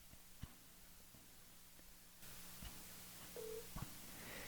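Faint telephone tones over a quiet line as a live radio show dials a caller back: a few clicks, then a short dial beep, with the line noise shifting partway through.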